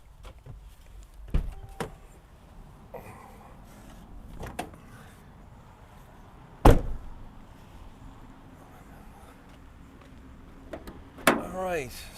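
The hood of a 2022 Mercedes-Benz Sprinter Cargo Van 170 4x4 being opened, with a few separate clunks and latch knocks spaced apart, one louder thud midway, and someone talking between them.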